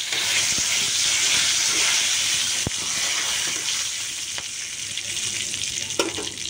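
Whole spices with a bay leaf and dried chilli hitting hot oil, a loud, steady, close sizzle and hiss of frying that runs throughout, dotted with a few faint pops and taps of a utensil.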